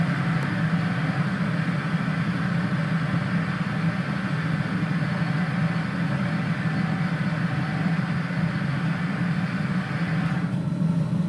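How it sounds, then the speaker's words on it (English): A homemade motorized machine twisting a Damascus steel billet: a loud, steady low motor hum and drone running continuously without pause, with a faint shift in tone near the end. "I'm using a little machine here that I made for twisting Damascus"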